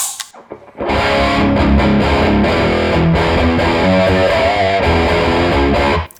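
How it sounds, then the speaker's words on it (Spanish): Electric guitar played through the distortion channel of an AMT D2 preamp, a loud, saturated, sustained chord passage that starts after a brief quiet pick and rings out before cutting off. "Ahora probemos la canal distorsión."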